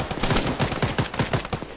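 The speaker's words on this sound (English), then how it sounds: "I'm getting shot at." Rapid automatic gunfire from a military shooter video game, loud and close, with bursts repeating at a steady rhythm over a dense background of shots throughout.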